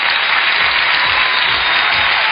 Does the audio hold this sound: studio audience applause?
yes